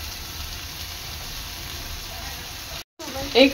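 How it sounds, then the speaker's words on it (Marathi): Prawns sizzle as they cook in a pan, a steady, close hiss of frying with a brief cut near the end followed by a few faint clinks, with no speech. "आता कोलंबी चांगली 10 मिनिटं शिजवून घ्यायची आहे।"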